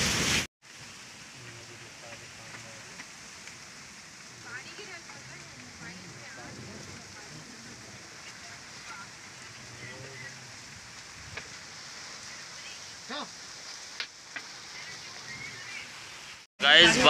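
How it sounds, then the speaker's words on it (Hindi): Rain falls steadily as a soft, even hiss throughout, fairly quiet, with a few scattered knocks and faint voices in the background and a brief louder burst at the start and end. "और देखिए बारिश को,"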